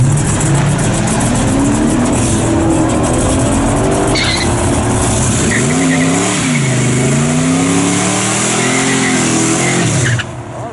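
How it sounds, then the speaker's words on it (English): A big block Chevy drag car revs hard in the burnout box at a drag strip, its loud engine rising and falling in repeated surges with tire squeal throughout, cutting off abruptly near the end. "coming up here with his big block Chevy. Slipping into the burnout box."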